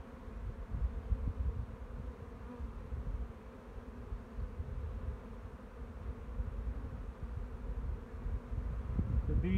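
Honeybees buzz steadily around an opened hive being worked in early spring, a dense, continuous low drone close by, swelling a little near the end, with no voices.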